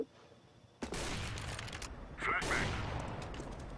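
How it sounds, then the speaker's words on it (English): Auto pistol fire in Counter-Strike: Global Offensive comes as a burst of rapid gunshots after a quiet start, loud and near, with a brief voice faintly underneath. "that auto pistol"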